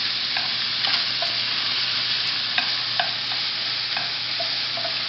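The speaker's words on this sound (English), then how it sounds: "Stir that around." Food seasoned with cumin and salt sizzles steadily in a pan while a spoon stirs it, with brief scraping clicks spaced through the continuous hiss.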